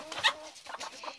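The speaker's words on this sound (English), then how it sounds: "I love my chickens" Backyard chickens, including Easter Egger, Silver Lace Wyandotte and Buff Orpington hens, clucking at feeding time, a few short close clucks and murmurs in quick succession with no talk over them.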